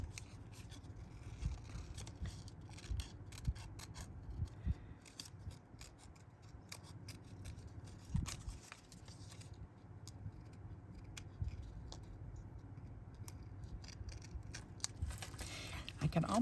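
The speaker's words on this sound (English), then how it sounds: "start squeezing the scissors together and then push the scissors and press to the left against that" Scissors snip around recycled clothing tags in a quiet indoor setting, with a steady series of soft, close cuts and scraping rubs and no speech.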